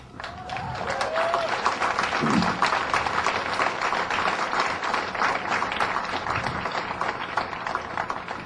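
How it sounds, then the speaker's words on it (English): An audience applauds steadily at a county fair veterans' covenant signing, a broad rush of clapping that swells early and continues evenly, with a faint voice briefly audible near the start. "that applause all goes to them"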